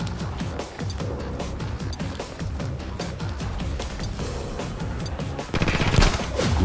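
Rapid video game gunfire from the shooter The Club, with dense bursts of automatic shots running continuously and a louder flurry near the end.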